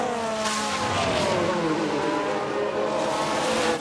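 Race cars in the F1 Manager 2022 video game around a crash, a loud continuous engine whine with shifting pitch and a hint of tire squeal, no voices.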